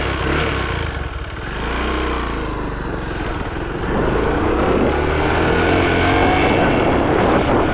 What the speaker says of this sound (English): the bike was able to start again.